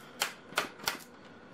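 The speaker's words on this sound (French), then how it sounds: "si j'arrive à ouvrir la boîte." Clicks and snaps from someone working open a box of watercolour pencils, three sharp clicks about a third of a second apart and then a softer one, close and fairly quiet.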